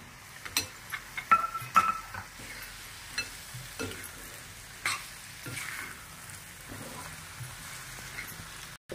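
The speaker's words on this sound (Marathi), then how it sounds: "मग बटाटा धुवून घेतले ते मी टाकत आहे।" Soft crackling and scattered clinks as washed potatoes are dropped into a hot pan, with quiet sizzling continuing underneath; no talking.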